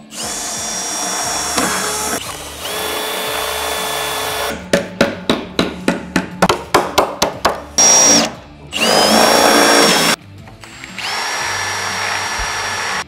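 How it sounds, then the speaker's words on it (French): Steel plates are fastened onto resin armor, with close, loud power-tool whine in long bursts and a quick series of about a dozen sharp, evenly spaced rivet-gun pops. "je viens de finir de rifter tout ce qui est plaque en acier sur la résine"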